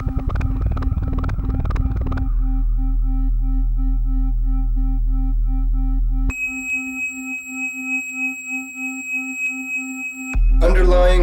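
Self-sustained feedback performance of regulated tones and pulses: a rapid burst of pulsing clicks gives way to steady droning hums, then a bright sustained high tone with harmonics rings over a wavering low rumble before a sweeping chirp closes.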